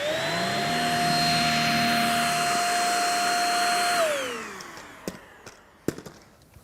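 Dyson DC59 cordless vacuum with a V6 motor and two-tier cyclones, running on a hard floor over fine dust. It gives a loud, steady whine for about four seconds, then winds down, followed by a few scattered clicks and knocks.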